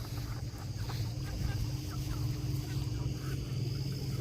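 Free-range meat chickens settling in at bedtime on a small ranch, a steady murmur of clucking and soft calls over constant low background noise.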